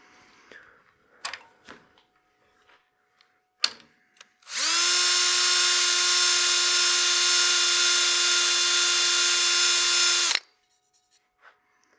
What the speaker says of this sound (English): I'm going to spot sand those with the 600.